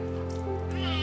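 A fragile kitten undergoing glue removal at an animal emergency clinic lets out a brief meow, close and clear above a steady electrical hum.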